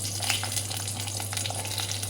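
Steady sizzling of small onions frying in hot oil, a dense continuous crackle with faint pops, close and moderately loud, no voices.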